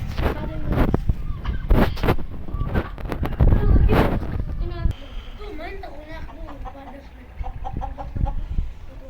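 A rooster that has fallen into a tube well clucks in short, chirpy calls, rising after a stretch of loud talking and knocking, with wind noise and people speaking over it.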